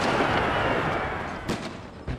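Cannon artillery fire on a battlefield in the strategy video game Empire: Total War, a dense roaring rumble with a couple of distinct booms rising out of it toward the end.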